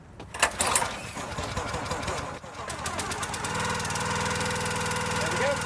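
A log splitter's small engine clatters as it is cranked, then fires and settles into a steady, close, loud running drone with a low rhythmic chug.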